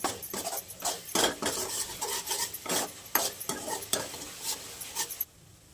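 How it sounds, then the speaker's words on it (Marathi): Masala sautéed in oil, stirred briskly with a metal spoon in a pan for dum aloo: rapid rhythmic scraping strokes over a sizzle, close and busy, then stopping abruptly near the end, no speech. "थोडे ना 5 मिनिट टाकून मसाला परतून घेऊयात मस्त."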